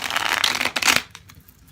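Tarot cards riffled and shuffled by hand in two quick bursts of crisp papery flutter, close and fairly loud, then a short quiet tail with faint handling.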